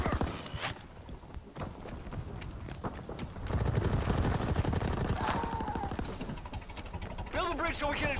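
A minigun fires in a World War II video game, rapid continuous mechanical rattling bursts over other game noise, with a player talking briefly.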